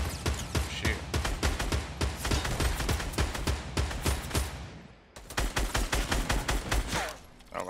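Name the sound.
gunfire in the video game Fortnite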